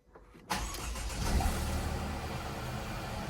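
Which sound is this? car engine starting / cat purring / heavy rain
car engine starting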